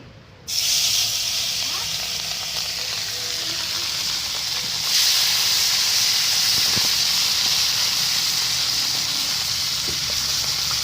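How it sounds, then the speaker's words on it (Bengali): River fish frying in hot mustard oil in a wok, a loud steady sizzle and hiss that starts abruptly and swells louder midway, continuing without let-up. "এবার আমি মাছগুলো ভেজে নেব"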